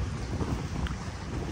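A tour boat pulls in on a windy Venetian waterfront, its low rumble blending into steady gusty wind noise that buffets the scene throughout.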